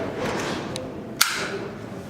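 A magazine is pushed into a bolt-action rifle at a shooting contest, landing in a single sharp close click-thud over a steady background murmur, with a couple of softer taps before it.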